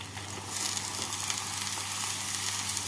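Chopped snake gourd tipped into a pan of fried onions, bursting into a loud, steady sizzle that jumps up after a brief quieter moment and then holds as a dense, continuous hiss.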